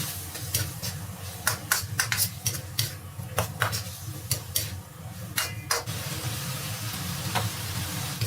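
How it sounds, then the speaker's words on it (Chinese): Scrambled eggs being stir-fried in a wok: a steady soft sizzle under repeated quick scrapes and taps of a spatula against the metal, fairly quiet and close. "倒入炒好的鸡蛋， 继续翻炒"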